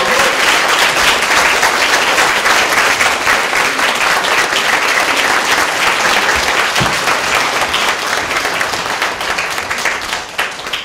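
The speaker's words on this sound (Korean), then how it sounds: "큰 박수로 맞아주시기 바랍니다." Loud, sustained applause from a large audience welcoming Governor Ahn Hee-jung of South Chungcheong at a citizens' school lecture, dense steady clapping filling the room and tapering slightly near the end.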